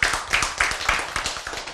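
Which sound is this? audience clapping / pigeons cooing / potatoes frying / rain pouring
audience clapping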